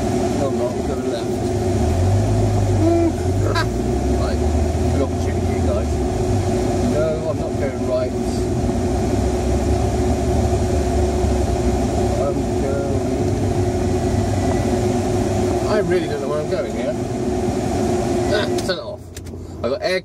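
Alfa Romeo GTV car engine running while driving, a steady low drone with cabin rumble throughout, with a person talking over it from inside the car.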